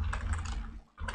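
Rapid typing on a computer keyboard while writing basic JavaScript: quiet, closely spaced keystrokes that run steadily, pause briefly near the end, then resume.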